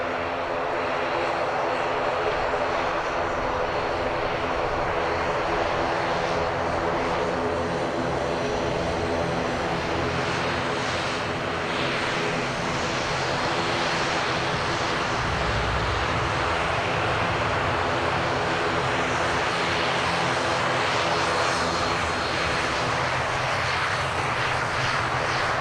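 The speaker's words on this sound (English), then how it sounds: "Now listen to this great sound on these ATRs." ATR turboprop airliner engines at Manchester Airport, a loud, steady propeller drone with a broad roar that holds for the whole stretch, near and unbroken, with no talk over it.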